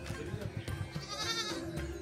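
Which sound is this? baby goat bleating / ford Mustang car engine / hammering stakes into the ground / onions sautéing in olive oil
baby goat bleating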